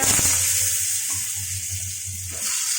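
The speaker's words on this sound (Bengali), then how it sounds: "এখানে তেজপাতা, শুকনো লঙ্কা, কালো জিরা ফোড়নটা দিয়ে দিলাম" Bay leaf, dried chili and nigella seeds tempering in hot mustard oil, a loud continuous sizzle and crackle close up that eases slightly midway before swelling again.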